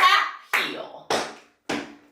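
Tap shoes strike the floor in a beginner tap routine: four loud, sharp percussive hits, roughly evenly spaced, each ringing briefly before the next.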